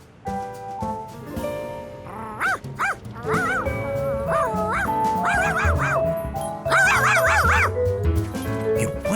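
A cartoon black dog yips and barks in a few short bursts over a busy musical score, with other voices and effects mixed in.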